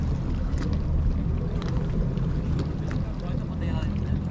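Boat engines running, a steady low rumble with wind buffeting the microphone, while people talk over it.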